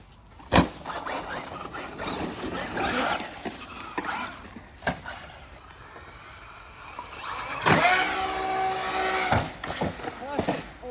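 A Traxxas Maxx Slash 6S RC car runs around a skate park, its electric motor whining up and down in bursts with sharp clatters and bumps, rising to a loud high-pitched rev near the end.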